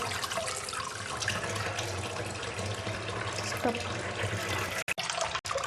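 Tap water runs steadily over raw chicken pieces being washed, a continuous close splashing stream that breaks off briefly near the end.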